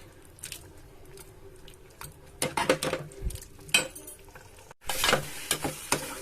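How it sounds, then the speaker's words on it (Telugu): Mealmaker curry is stirred in a pan over high heat after water is added, with a steady low sizzle under repeated scraping and clinking strokes of the spoon against the pan, growing busier toward the end. "ఇప్పుడు పెద్ద మంట పెట్టుకొని ఇంకొకసారి కలుపుకోవాలి."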